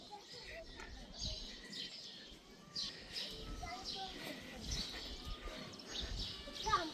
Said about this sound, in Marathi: त्या मोरांचा आवाज आहे ना ताई?